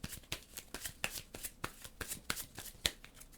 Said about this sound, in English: and then we'll shuffle again.